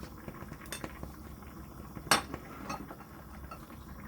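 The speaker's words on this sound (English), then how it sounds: "cut it into bite-sized pieces with a spoon" A spoon cuts soft tofu in a clay pot of Korean soft tofu stew, giving faint scattered clinks and scrapes, with one sharper knock against the pot midway amid low background noise.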